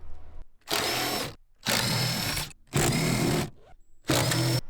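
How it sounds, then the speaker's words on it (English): Power drill backing out Torx bolts from the seat of a wrecked 2019 Honda Civic Type R, four loud, close whirring bursts of about a second each, separated by short quiet gaps. "Just some Torx bits right here, 4 of them I believe, and we'll get this beautiful seat right out."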